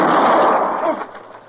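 A single loud gunshot from a gun in a radio drama, a sharp blast that rings out and fades over about a second.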